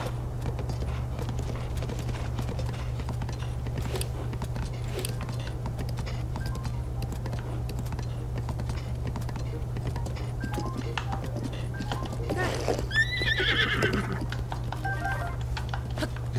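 Horse hooves clopping and a horse sound in Breath of the Wild, faint rhythmic patter over a constant low game hum, with a brief higher call near the end.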